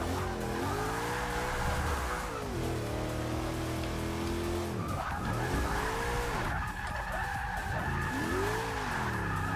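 A high-horsepower El Camino drift car in Forza Motorsport 6 roars at high revs, its engine pitch rising and falling through gear changes while tires squeal in long continuous slides, loud and close throughout.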